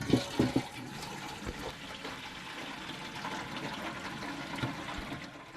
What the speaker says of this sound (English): The hot water's coming out.